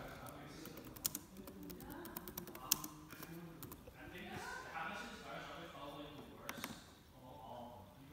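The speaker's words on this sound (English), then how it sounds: "and then you type in your folder." Keys tapped on a computer keyboard as a folder name is typed, light scattered clicks in short runs under a man's steady explanation.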